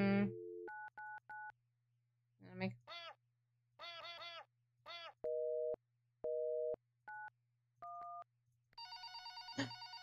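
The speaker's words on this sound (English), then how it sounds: "We're ringing 911." Telephone keypad tones dialing 911, a run of distinct beeps in uneven bursts followed by steady ringback tones and a harsher busy-style tone at the end, played loud and clear over a faint constant hum.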